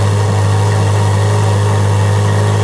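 A Chevrolet Corvette Z06 engine runs steadily at a low idle, with a deep constant rumble that is moderately loud and close, and no voices over it.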